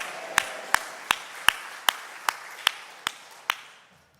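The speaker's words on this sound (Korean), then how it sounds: "하나님께 영광의 박수 올려드립니다" A congregation at a Sunday worship service claps in unison. Nine sharp, evenly spaced claps ring out about 0.4 seconds apart, crisp and echoing slightly, before the room falls quiet.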